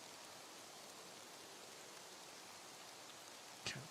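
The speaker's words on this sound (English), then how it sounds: "the rain is causing issues" Steady, even rain hisses across the whole stretch in the survival-building game Beyond the Map, a dense, unbroken wash with a brief brighter splash or clatter near the end.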